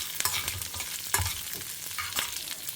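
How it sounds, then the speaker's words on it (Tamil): Red chilli, coconut and curry leaves are lightly roasted in a pan, producing faint, close stirring scrapes and soft dry sizzling, with a few sharper spatula strokes across the pan. "இப்போ நம்ம வந்து ரெட் சில்லி, கோகோனட் அண்ட் கறி லீஃப் இதை கொஞ்சம் லேசாக வறுத்துக்கலாம்"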